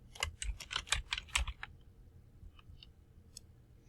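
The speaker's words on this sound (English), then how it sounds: "start typing in the next one" Quick bursts of computer keyboard typing during a Word document exercise, a rapid cluster of close, crisp key clicks for about a second and a half, then a few scattered faint taps in a quiet room.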